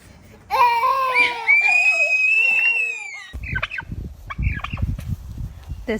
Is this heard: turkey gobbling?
yes